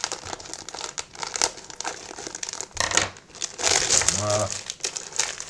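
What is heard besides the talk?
opening the wrapper of a Premier League trading card starter pack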